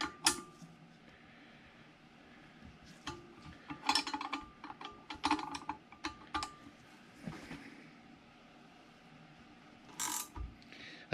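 Socket ratchet tightening a part on the swing arm of a Suzuki Bandit 1200 motorcycle during a swing arm bearing replacement, a run of close, quiet clicks and metallic ticks with short pauses between bursts.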